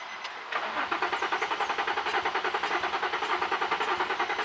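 The VQ V6 engine of a wrecked Nissan 350Z is cranked on a cold start attempt; a rapid, regular rhythmic chugging of the starter turning the engine over begins abruptly and repeats steadily without catching, loud and close.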